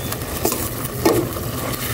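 Pork sautéed in a pan, a close steady sizzle with a couple of stirring scrapes and soft utensil knocks, no voices.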